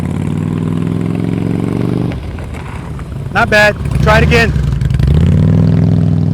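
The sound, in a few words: motorcycle engine revving during slow speed riding practice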